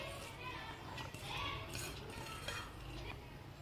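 Chopped onions going into gram flour batter for onion pakora, a quiet, soft wet mixing and stirring with faint clinks of a bowl and utensil.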